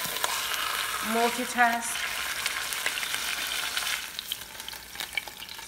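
A pot roast browns in an Express CrockPot with a steady, close frying sizzle that runs throughout, and a brief voice rises above it near the start.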